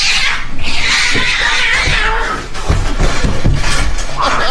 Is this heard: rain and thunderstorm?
no